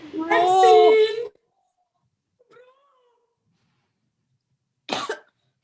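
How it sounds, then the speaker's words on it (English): A short harsh cough at the end, following a vocal sound and near silence, close and sudden. "do you have a cough?"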